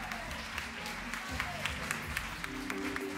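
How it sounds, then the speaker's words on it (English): An audience gives a drag performer in a striped black and yellow costume an extra round of applause at a queer cabaret show in Berlin. The clapping is moderate and steady, mixed with crowd noise and some voices. "gets an extra round of applause"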